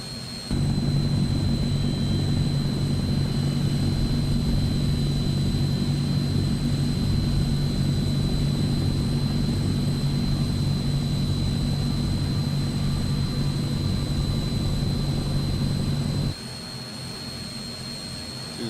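A Transall C160 transport aircraft engine in flight-simulator play drones loud and steady with a sustained whine, then drops sharply in level near the end.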